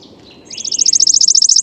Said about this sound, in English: Here's worm-eating warbler.